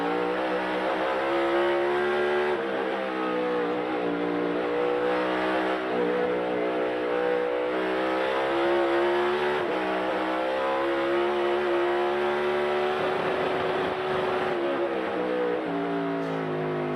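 A loud NASCAR race car engine screams at high revs during practice, holding steady against the rev limiter with slight wavering pitch for a long stretch, no voices.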